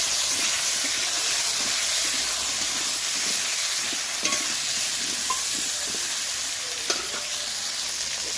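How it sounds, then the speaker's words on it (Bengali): Sliced teasel gourd frying in oil left over from frying fish, giving a steady, close sizzle with a few soft scrapes of stirring, and no voices. "এবারে কেটে রাখা কাঁকরোলগুলো ওই তেলের মধ্যে, মাছ ভাজা তেলের মধ্যে আমি ভেজে নেব।"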